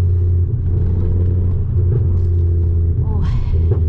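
A Ford Focus ST cruises along with a steady low engine rumble and road drone heard from inside the cabin, fairly loud and even, with a brief higher-pitched sound near the end.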